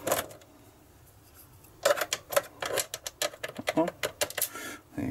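Small screws being worked loose and lifted from a ZX Spectrum 128 +2 computer case during a teardown, with several close, sharp clicks and taps in an irregular rhythm after a quiet stretch.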